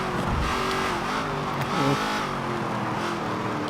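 A Ford Falcon XY muscle car in Forza Motorsport 7 accelerates steadily, its engine droning loud and continuous with a brief rise in pitch midway, alone without talk.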